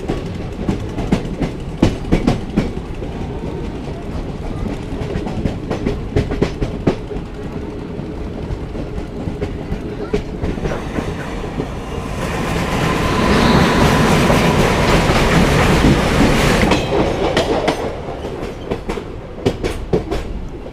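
The 14123/24 Intercity Express runs between Kanpur and Lucknow with a steady rhythmic clickety-clack of wheels on rail joints. The rumble swells louder for several seconds midway, then settles back to the rolling clatter, with no voices.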